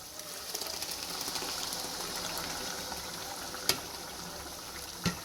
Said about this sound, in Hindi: अब हम इसमें जो हमने टमाटर प्यूरी बनाया था, अब हम वो प्यूरी डालेंगे इसमें।